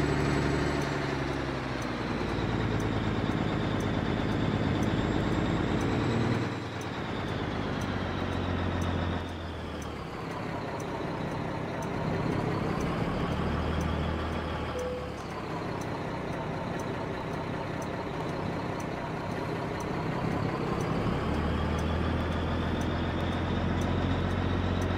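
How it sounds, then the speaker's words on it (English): Mack R truck engine in American Truck Simulator, a loud, steady diesel drone that runs the whole time with a few changes in pitch and load as the truck shifts gears, with no talk over it. "It's a noisy engine, especially when those windows are down."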